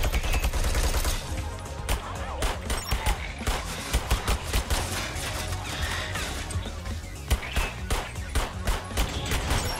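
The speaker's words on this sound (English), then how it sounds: "turrets are doing work" Rapid automatic fire from defensive turrets in the video game Sentry, a dense, continuous crackle of shots and impacts running loud throughout with no speech.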